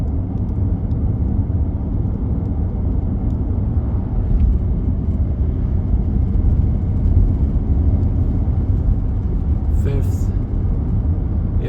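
A 2018 VW Tiguan SE cruising on the road after a downshift into fourth gear: a steady low engine and road rumble, unbroken, with faint tire and wind noise throughout.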